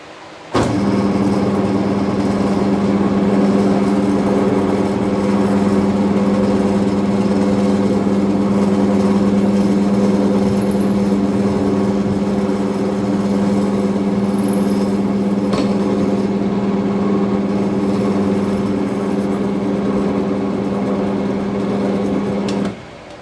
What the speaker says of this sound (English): we're going to drill through it